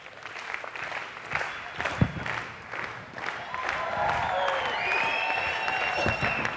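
Award show audience claps along while a performer juggles a person on stage, crowd clapping and murmur building with cheering and whistles rising toward the end.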